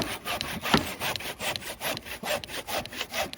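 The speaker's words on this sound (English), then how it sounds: "A longer saw isn't quite as accurate for cutting straight lines in carpentry work." A hand saw cuts treated pine in quick, regular back-and-forth strokes, close and rasping, about two strokes per second with no talking.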